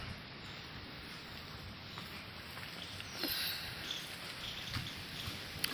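Rain falls under heavily clouded skies in Keonjhar, a faint, steady broadband hiss with scattered soft patters and drops from start to finish.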